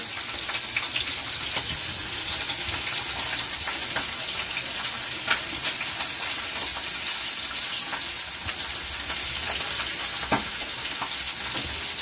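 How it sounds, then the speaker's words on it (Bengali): Hilsa fish head and tail pieces fry in hot oil, a constant close sizzle dotted with sharp pops and spatters, with no voices. "এগুলোকেই ভেজে আমি ওটার সঙ্গে ভর্তা করবো"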